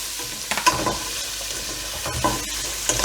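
Onion and carrot sauté in butter in a pot, giving a soft steady sizzle, punctuated by several scraping stirs from a utensil, close and alone with no talking.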